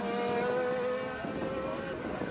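Racing car engine at Kirkistown circuit, a Radical or Formula 3 car sliding through Fisherman's into the Crossley chicane, with a loud tonal engine note that drops in pitch as it brakes and passes close by.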